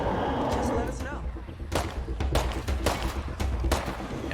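Several sharp gunshots in the zombie survival game State of Decay, spaced irregularly over a low rumbling backdrop.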